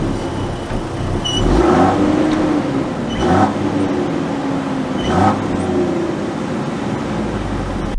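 A 2022 Land Rover Defender X-Dynamic HSE two-door, top down, pulls away with three rising engine surges separated by short lulls, heard close over steady road and wind noise.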